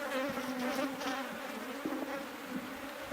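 Honeybees buzzing over open hive frames full of brood, a dense nearby drone with individual bees passing close, steady throughout with a small bump of handling at the end, no voices.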